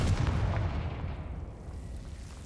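A Confringo fire spell blasts in Hogwarts Legacy with a dense, rumbling fiery boom that is loudest at the start and slowly fades out over a couple of seconds.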